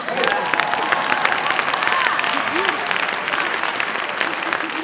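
A live audience bursts into loud, sustained applause at a talk, dense clapping filling the whole stretch with a few scattered cheers and voices mixed in.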